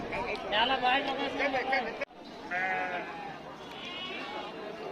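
Sheep and goats bleat repeatedly at a busy Monday morning livestock bazaar in Harapanahalli, Karnataka, the calls loud and close amid steady crowd chatter, with a brief sharp drop in the din midway.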